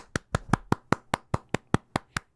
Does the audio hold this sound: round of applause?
yes